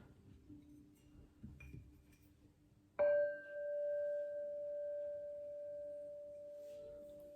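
A machine-milled Tibetan singing bowl is struck once after some quiet handling noises, giving a clear ringing chime with a bright overtone that sustains steadily and slowly decays.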